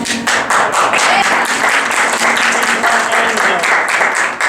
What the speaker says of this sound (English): Can I get a quick round of applause